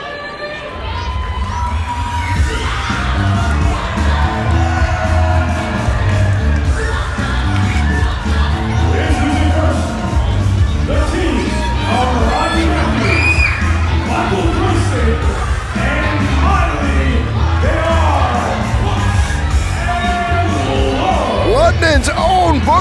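Arena crowd at a wrestling fight night roars and cheers steadily throughout, loud and dense, with shouts and whoops rising out of the mass of voices.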